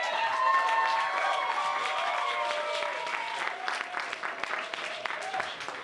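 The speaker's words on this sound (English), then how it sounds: "big round of applause for them" A crowd at an arm-wrestling show claps and cheers for the ring crew, a broad, steady roar of hands and voices, with crowd noise mixed into the applause throughout.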